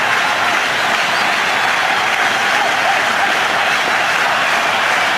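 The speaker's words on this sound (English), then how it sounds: "So a big cheer here." Large cricket crowd applauding and cheering a batsman's century in a one-day match, a dense, steady roar of clapping and voices that fills the whole moment without letting up.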